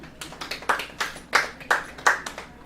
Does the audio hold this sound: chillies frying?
no